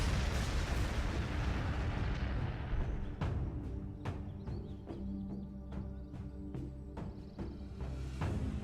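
Heavy bolters firing in the Warhammer 40,000 game Astra Militarum: a dense rumbling barrage of loud thudding shots, then a series of sharp separate bangs ringing out at irregular intervals, with no talking.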